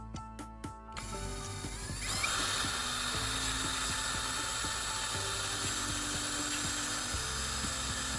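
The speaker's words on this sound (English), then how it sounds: "I'll drill a hole right in the bottle cap with the proper size so that a spark plug can be attached to it easily." A drill boring a hole into a plastic bottle cap: a few sharp clicks, then a steady whirring grind with a rough scraping edge that carries on at close range, no talking.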